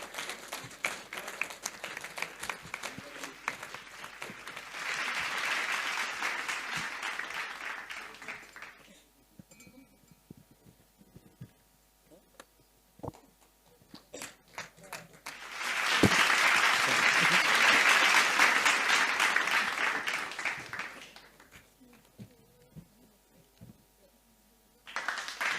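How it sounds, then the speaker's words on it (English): Audience applause at a medical conference on diabetes in pregnancy, two bursts of clapping from a hall crowd, a few seconds each, separated by a quieter gap with scattered claps. "Can we have a round of applause, please?"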